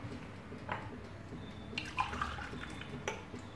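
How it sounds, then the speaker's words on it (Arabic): Water is poured into a blender jar over partly ground semolina batter for baghrir, Moroccan pancakes, making faint splashing and dripping with a few soft clinks, quiet and close. "دابا من بعد ما طحنت شويه غادي نزيد عليه الماء."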